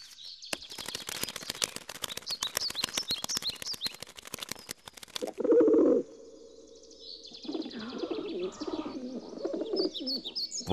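Pigeon cooing in a Hindi-dubbed Chiranjeevi film scene, a few soft throaty coos in the second half after a burst of rapid chirps and flutter, close and clear without speech.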